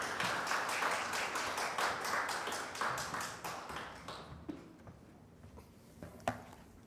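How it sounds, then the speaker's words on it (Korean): A church congregation claps to welcome an elder at an early-morning Korean service; dense, steady applause that thins out and fades over several seconds into a few scattered claps. "우리 장로님을 큰 박수로 축복하며 맞이하겠습니다"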